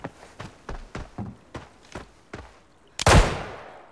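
Gunfire in the shooter game Arena Breakout: a string of single, evenly spaced shots from a weapon, close and sharp, ending in a louder, heavier blast that rings out and fades, with no talk.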